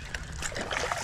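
A small fish is yanked out of creek water with a brief, messy splash and splatter of droplets, close and moderately loud against a noisy outdoor background.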